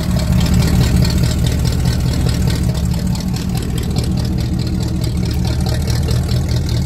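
A 1979 Chevy Scottsdale engine with an old Holley carburetor in need of adjustment idles close by, a loud, steady low rumble with an even pulsing throb and no speech.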